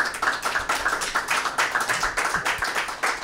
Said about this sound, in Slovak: To je neuveriteľný potlesk